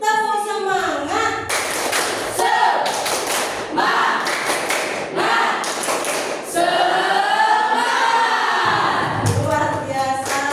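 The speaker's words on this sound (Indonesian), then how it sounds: "Tepuk semangat." An 8A school class claps out the rhythmic tepuk semangat chant, with bursts of clapping alternating with voices calling out together in a loud classroom.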